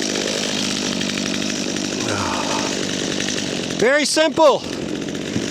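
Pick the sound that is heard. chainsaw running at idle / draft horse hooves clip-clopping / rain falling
chainsaw running at idle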